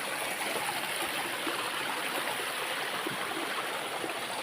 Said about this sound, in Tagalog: Ano sapa dire sa napikot